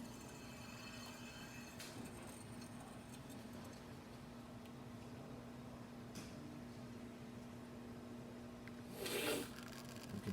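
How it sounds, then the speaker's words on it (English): La Spaziale EK espresso machine pulling a shot: a steady low pump hum drones throughout, with faint clicks and a brief hissing burst near the end. "So let's go ahead and make a shot."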